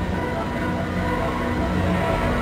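A ghost train ride rumbling along in the 1998 DOS point-and-click game The Quivering: a steady, loud, dense rolling train roar that holds unchanged throughout, with no talking.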